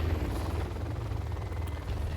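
A helicopter in the real-time strategy game Command & Conquer Generals Zero Hour gives off a steady, loud rotor drone with continuous low thumping throughout.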